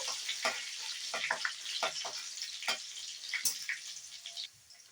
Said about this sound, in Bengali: কাঁচা লঙ্কাটা তেলের মধ্যে দিয়ে দিলাম দিয়ে কাঁচা লঙ্কাটাকে একটু ফ্রাই করে নিতে হবে